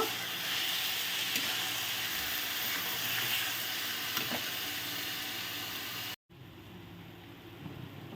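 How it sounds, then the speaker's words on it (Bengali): Spices frying in a pan for a Bengali vegetable dish, a loud continuous sizzle and hiss with occasional stirring scrapes, close up, cutting out briefly near the end before a quieter sizzle resumes. "এখন এটা দিয়ে আমি সুন্দর করে একসাথে ভেজে নেব বা কষিয়ে নেব"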